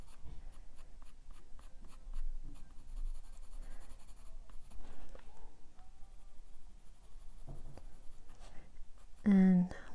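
Colored pencils scratch across paper in steady, faint strokes, a soft continuous rasp that goes on for several seconds with brief pauses, while a person talks quietly over it.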